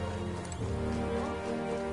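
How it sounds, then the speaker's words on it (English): Rain comes down steadily as a constant wash of hiss, with a low tonal background hum running underneath throughout. "Hang on, this bloody rain."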